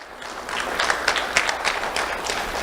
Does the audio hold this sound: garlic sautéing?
no